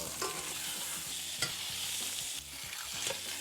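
Pork shoulder browns in a hot pan with a steady sizzle and a few scraping stirs and clatters, heard close with no voices.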